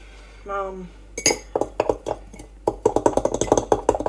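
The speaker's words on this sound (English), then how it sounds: "Gonna whisk it really hard till it becomes cream" A fork whisks cake batter inside a mug, making quick, close metallic clinks in a steady, fast rhythm against the mug's sides after a brief opening sound.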